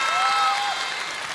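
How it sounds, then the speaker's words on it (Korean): Audience applause at a youth talk-concert lecture, a dense steady wash of clapping for about a second and a half that tapers slightly toward the end, with a faint tonal whistle-like line early on. "큰 박수 부탁드립니다."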